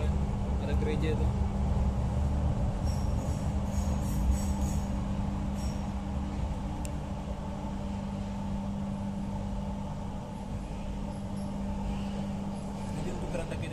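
An LRT Jabodebek train on the Jatimulya–Dukuh Atas line runs steadily, giving a continuous low rumble with a sustained tonal hum and faint rattles, heard from inside the car.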